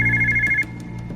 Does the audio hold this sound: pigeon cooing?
no